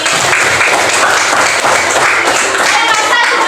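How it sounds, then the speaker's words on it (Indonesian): A classroom of pupils applauds during a lesson on types of waste, a steady, dense round of clapping that holds at full level, with voices mixed in. "Tepuk tangan lagi."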